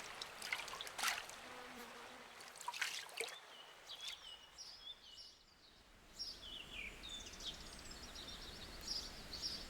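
Water trickling quietly inside a cave in the game Haven and Hearth, a faint continuous dribble with scattered high chirping sounds over it.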